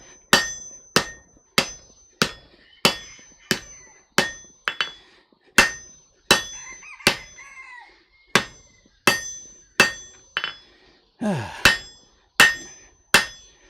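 A hammer strikes hot metal on an anvil in a smithy, about seventeen sharp ringing blows at an even, unhurried pace, each one close and loud with a short metallic decay.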